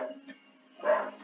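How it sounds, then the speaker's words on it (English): A pet dog barks indoors: two short, muffled barks, the second louder and longer, sounding some distance from the microphone against a quiet background hum. "And my dog is barking."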